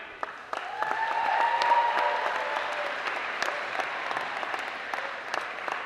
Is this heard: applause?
yes